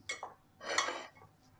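Quiet clinks and a soft scraping swirl of a utensil stirring a chicken lollipop coating mixture with purée in a bowl, a few short strokes with brief pauses.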